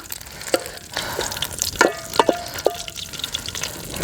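Egg roasts in oil on a teak leaf, giving soft sizzling with scattered pops and crackles, plus a few short stirring or scraping sounds close by.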